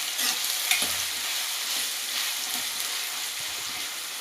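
Onions frying in a pan for vegetable fried rice, a close, steady sizzle broken by a few scrapes and knocks of stirring, with no talking.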